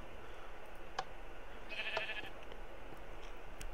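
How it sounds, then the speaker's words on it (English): Sheep bleating inside the Minecraft video game, a short synthetic bleat or two over a steady background hiss, moderately faint with no talking. "So sheep should work as well."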